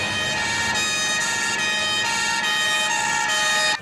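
A fire engine siren sounds as firefighters arrive at a building fire, a loud, steady wail that holds throughout with no voices.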